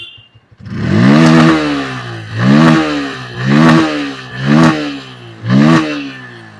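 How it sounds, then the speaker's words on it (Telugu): A Bajaj Pulsar N150 motorcycle engine with an underbelly exhaust revs up five times in a row, each throttle blip rising and falling in a loud, close exhaust roar over a steady idle. "ఇప్పుడు ఎగ్జాస్ట్ నోట్ అయితే ఒకసారి విందురు"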